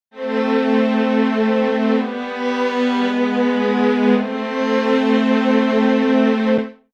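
Sustained orchestral string chord with second violins playing divisi, two close lines held steadily for about six seconds in the violin register, loud and alone with no talking.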